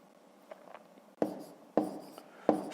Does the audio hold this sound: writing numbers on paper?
yes